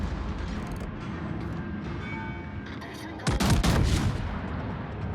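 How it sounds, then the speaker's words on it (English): Naval gunfire from a tier 9 warship in World of Warships, one loud sudden salvo booming and rumbling for under a second after a quieter stretch of engine and ambient game noise. "Take one last parting shot there."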